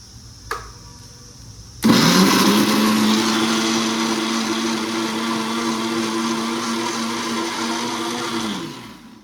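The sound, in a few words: mixer grinder grinding tomato and coriander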